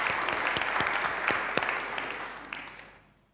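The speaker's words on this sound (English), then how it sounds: "I think we should give a wee clap offering for that." A short round of audience applause at a church giving-series gathering, with a few sharp individual claps standing out over the crowd's clapping before it fades out after about three seconds.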